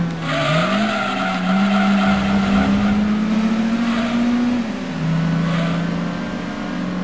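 Race car in Gran Turismo 2 driving hard, a loud, steady engine drone that rises and falls with gear changes, with tire squeal layered over it and no talk.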